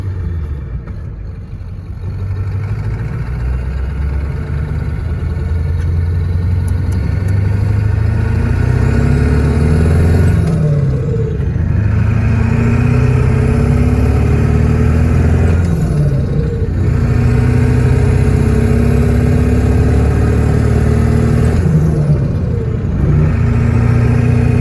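A car with a ZF5 manual gearbox, in second gear on a new engine tune, revs loudly and steadily close by, with the engine note climbing and falling in repeated surges and a continuous rumbling drone throughout.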